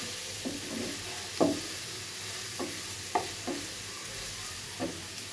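Onion browning in hot oil for a beef curry, a faint continuous sizzle with a handful of spaced spatula knocks and scrapes, close by and without any voices.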